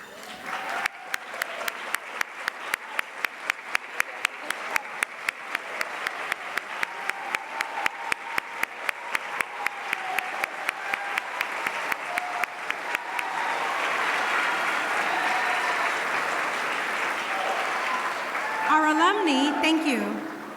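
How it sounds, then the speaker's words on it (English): At a scholarship and awards gala, the audience first claps in a steady, even rhythm for a long stretch, then breaks into continuous, fuller applause that swells before fading near the end, heard from a moderate distance. "Will our alumni with us tonight please stand so that we may acknowledge you with an applause?"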